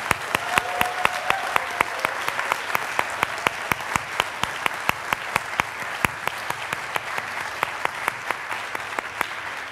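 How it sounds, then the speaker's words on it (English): Sustained applause fills a graduation hooding ceremony for Master of Engineering graduates, with a crowd clapping steadily and densely from start to finish, loud and close, without talk. "Let's have another round of applause for all of our graduates."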